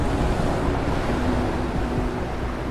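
Water surging and rising inside a dungeon in the video game Dungeons of Hinterberg, a steady broadband rush like surf that holds at an even level throughout, with no voices.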